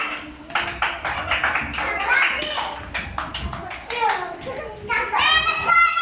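A group of children clapping at a school, rapid overlapping hand claps with close chatter and voices among them.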